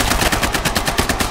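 Rapid automatic gunfire in the video game Battlefield Hardline rattles loud and close in a dense, continuous burst with no talk over it.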